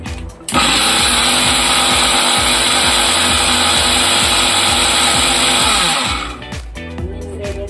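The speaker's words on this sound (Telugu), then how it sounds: "ఇది కూడా మిక్సీ వేసేసుకున్నాము" A mixer grinder whirs loud and steady as it grinds spices for homemade sambar powder, starting abruptly, running about five and a half seconds at full power, then winding down to a lower rattle.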